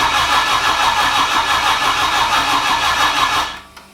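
A car engine cranks steadily on the starter for about three and a half seconds without catching, a loud, continuous mechanical whirring that then cuts off abruptly, leaving near silence.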